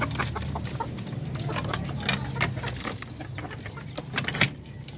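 Native Darag chicken hens cluck and chicks peep in quick, irregular bursts close by, with light scratching and rustling in the background.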